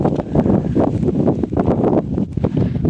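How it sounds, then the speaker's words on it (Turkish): Cold wind gusting outdoors in a garden, a steady broadband rush with fluctuating buffeting that fills the whole stretch without pause. "Nasıl esiyor hava diyorum ne kadar soğuk"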